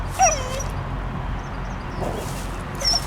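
A dog whimpers at a squirrel up a tree outdoors, giving thin, high squeaky whines at the start and end over a steady low background rumble.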